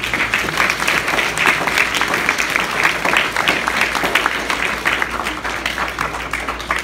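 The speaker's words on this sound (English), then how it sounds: "Let's give a round of applause to Ms." Steady crowd clapping fills a school award assembly, many hands beating at an even, fairly loud level for several seconds without letting up.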